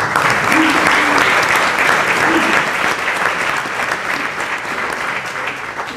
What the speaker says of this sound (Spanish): Recibamos también con un aplauso